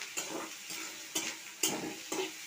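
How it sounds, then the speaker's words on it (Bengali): Onions and chopped green chilies fry in a pan, a steady sizzle broken by four sharp bursts as the pieces are stirred, close and moderately loud with no voices. "পেঁয়াজটা আমি ভালো করে ভেজে নেব লাল লাল"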